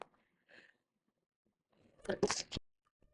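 A single sharp sneeze bursts out close to the mic after a quiet stretch, preceded by a faint breath or murmur.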